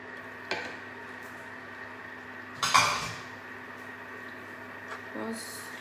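Coconut milk sticky rice cake batter being stirred in a pot, with a few sharp clanks and scrapes of the utensil against the pot separated by quieter stretches.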